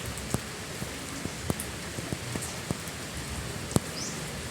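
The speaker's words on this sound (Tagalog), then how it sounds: "Maulan na umaga." Rain falls on a rainy morning: a soft, steady patter with scattered sharper drips landing nearby, fairly quiet overall and without voices.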